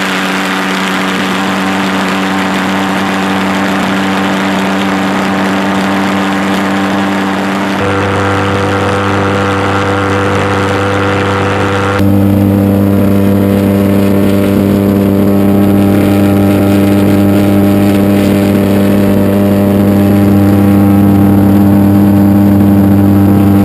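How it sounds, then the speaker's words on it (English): A Viper 50 valveless pulsejet engine, 50-pound thrust, roars continuously at full loudness with a harsh, buzzing drone whose pitch steps up twice as it runs, close and overwhelming with no voices. "So that was my Viper 50 valveless pulsejet engine running"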